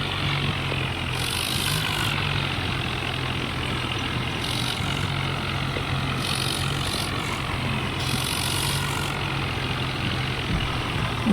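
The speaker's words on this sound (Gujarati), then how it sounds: "પછી ટ્રેક્ટરને લોડ કરવા તૈયારી કરી." A New Holland tractor engine runs steadily at a low idle while the tractor is loaded onto a ramp, a constant loud drone with a deep hum throughout and brief higher-pitched whines rising over it.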